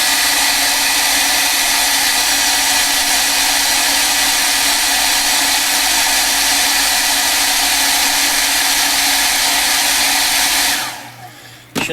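A hair dryer blowing on wet paint on an art journal page, a loud, steady, close whooshing whir that runs for about eleven seconds before switching off abruptly.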